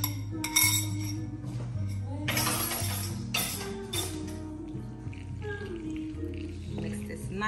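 Lobster mac and cheese is stirred in a pot, giving light clinks and soft wet scraping sounds in a loose rhythm over quiet background music, with no talking.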